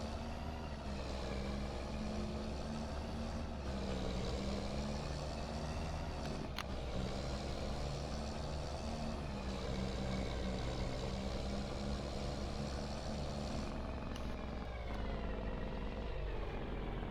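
A truck engine in Farming Simulator 25 drones steadily while driving and reversing, a low continuous rumble with a few faint brief tones and clunks, fairly quiet and without talk.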